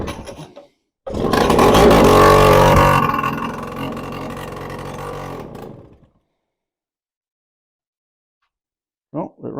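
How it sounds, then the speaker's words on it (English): An old Suzuki LT50 quad that had sat outside in the rain cranks and catches, then its small engine runs loud and rough for a few seconds before cutting off into silence. Brief voice fragments come at the start and end. "let's see if we can get it fired up"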